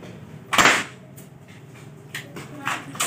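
A spring-powered toy AK47 airsoft rifle fires one loud, sharp crack, followed by a few softer snaps and clicks over a quiet background.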